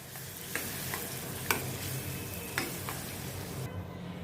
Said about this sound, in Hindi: टमाटर को भी मैं अच्छी तरह से प्याज के साथ मिक्स करती हूँ